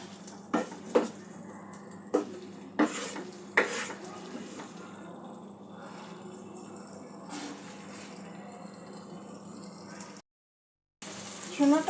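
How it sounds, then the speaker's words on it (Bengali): Chickpeas stir-fried with spices in a pan for chole masala, a spoon clattering against the metal several times over a steady low sizzle, with a brief silent gap near the end. "মশলার সঙ্গে ছোলাটা একটু কষিয়ে নেব"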